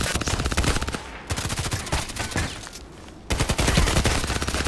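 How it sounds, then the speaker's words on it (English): Rapid automatic gunfire in the online shooter Contract Wars, dense bursts of shots filling the clip, breaking off briefly around the middle before resuming loud and close. "Why are you shooting?"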